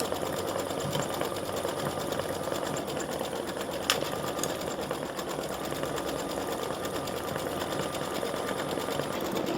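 A sewing machine stitches a pom-pom onto the tip of a felt gnome hat, running in a steady, continuous mechanical whir close by with one brief sharp click partway through.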